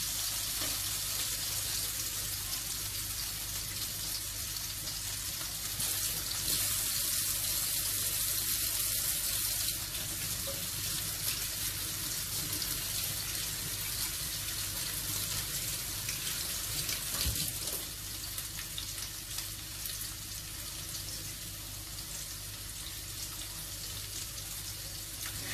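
Tap water runs steadily into a kitchen sink during home dinner preparation of squash with sardines, a continuous broadband wash with no talk over it, holding steady throughout and easing slightly near the end.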